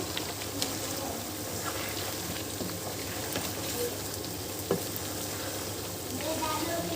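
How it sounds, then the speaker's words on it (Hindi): Chicken frying in oil in a karahi, a steady soft sizzle with occasional spatters and a faint stir, fairly quiet throughout. "अब हमें चिकन को गोल्डन होने तक फ्राई करना है।"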